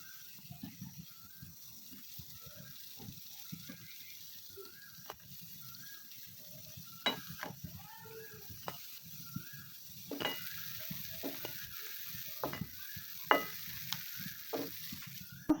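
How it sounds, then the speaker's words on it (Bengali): Mango pitha cakes fry in hot oil with a soft, continuous sizzle and scattered light pops and clinks, fairly quiet throughout and growing a little busier toward the end. "পিঠাগুলো আমি তেলের উপর আরও কিছু পিঠা ছেড়ে দিচ্ছি"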